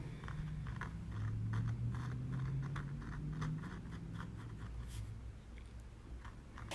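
Pen drawing holly and lollipop shapes on a Christmas card styled after Andy Warhol, a soft continuous scratching of the tip across card with short repeated strokes, close and fairly quiet, with a low hum underneath.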